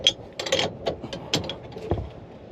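A sailboat's anchor windlass pays out chain with faint, irregular mechanical clunks, clicks and rattles, close by with no talk.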